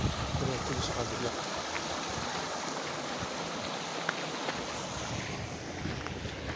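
A stream flowing through woodland in McIntosh Run Regional Park, Halifax, Nova Scotia, gives a steady, broad rush of running water mixed with wind buffeting, continuous and fairly close throughout.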